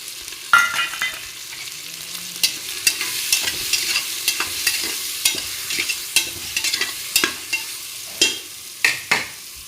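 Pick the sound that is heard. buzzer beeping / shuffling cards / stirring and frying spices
stirring and frying spices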